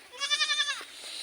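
A young goat bleating once, a near, wavering, quavering cry lasting under a second, followed by faint rustling.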